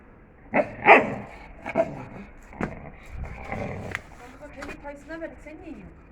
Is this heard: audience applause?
no